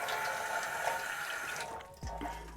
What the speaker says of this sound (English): I'm filling this one with water.